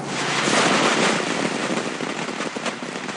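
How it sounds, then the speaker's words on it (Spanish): Black Cat fireworks go off in a loud, dense, continuous crackle of rapid firecracker-like pops that holds steady for several seconds. "Los fuegos artificiales están diseñados para que funcionen de noche."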